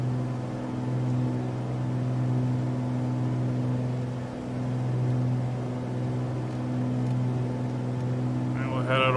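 A simulated aircraft engine held at about 2,400 RPM in Microsoft Flight Simulator 2020 near Mount Fuji, a steady droning hum with a low throbbing tone, even and continuous, with a voice talking over it.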